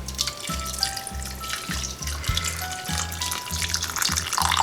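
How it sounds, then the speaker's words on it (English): Water poured into a pot of fabada beans: a steady trickling, splashing pour runs throughout, nearby and moderately loud, over a repeating low musical beat in the background. "We want to fill it with water until everything is covered, plus about a finger, centimeter above."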